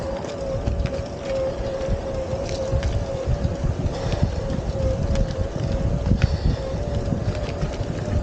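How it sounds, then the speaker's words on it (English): Wind rushes across an open hilltop while someone rides a Windone E20 compact utility e-bike, a constant broadband roar buffeting the microphone with a faint steady motor whine beneath. "It's starting to get windy."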